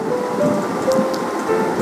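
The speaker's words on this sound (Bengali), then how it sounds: "এখানে আমি অ্যাড করে দিচ্ছি সামান্য পরিমাণ পানি।" Water poured into a pan of frying spices and onion paste gives a loud, close, rushing hiss and bubbling that stays steady throughout the short moment.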